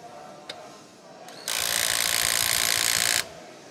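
Milwaukee M18 FUEL controlled torque impact wrench set to 100 foot-pounds, tightening in one sustained, loud, rapid hammering burst of under two seconds, preceded by a couple of faint clicks and trailed by quiet room tone.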